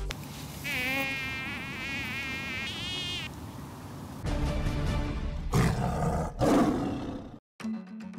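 Mosquito buzzing, a thin whining hum that wavers for about three seconds over a low roaring background, followed by broader rustling and noisy bursts.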